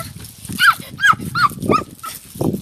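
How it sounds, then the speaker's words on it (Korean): A puppy on an island gives a rapid series of four or five high yelping barks and whimpers, close and loud, followed by a brief softer whine. "강아지가 있어요. 너무 귀엽지 않나요?"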